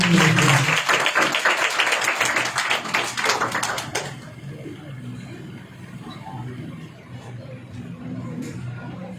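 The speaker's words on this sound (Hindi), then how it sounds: "एक जोरदार ताली हो जाए ट्रिनिटी चर्च के लिए" An audience at a Trinity Church youth meeting in Nagpur bursts into lively clapping for about four seconds, then fades into quieter room murmur and scattered small sounds.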